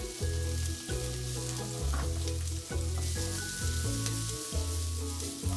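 Roughly chopped red and green peppers stir-fry in a hot pan for pork in yellow bean sauce, a steady close sizzle with repeated scraping and tossing strokes every second or so.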